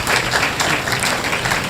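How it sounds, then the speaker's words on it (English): A crowd applauding: dense, steady clapping from many hands that keeps an even loudness for under two seconds. "Can we please give yourselves a round of applause,"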